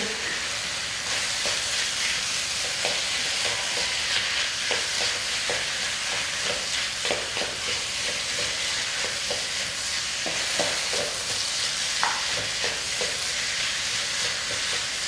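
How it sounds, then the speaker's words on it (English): Ground beef browning in a pan, with a steady sizzle and frying hiss alongside scraping stirring strokes, close and continuous, no talk. "Keep stirring till the beef is brown."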